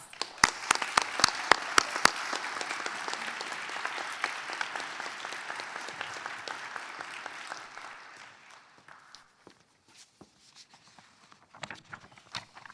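Audience applause at a dental school White Coat Ceremony, sustained clapping from a seated crowd that fades out after about eight seconds, leaving scattered claps, with no talking.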